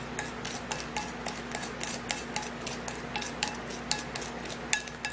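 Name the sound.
mixing toothpaste paste ingredients together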